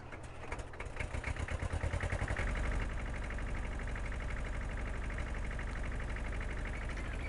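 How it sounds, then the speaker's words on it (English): A tractor engine idles in a video game, a steady low rumble with a dense mid-range drone that swells over the first few seconds, then holds loud and even to the end. "Listen to that tractor."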